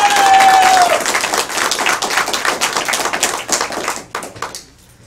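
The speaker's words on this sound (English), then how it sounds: "I'm happy that you want to applaud, but please refrain from squealing or screaming" Audience applause at a county commission meeting, loud dense clapping from a crowd that starts strong, with a brief whistle-like squeal early on, then tapers off near the end.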